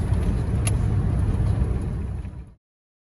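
A Buick GN car driving on a road after fuel pump repairs, its engine giving a steady low hum and road rumble from inside the cabin before cutting off abruptly.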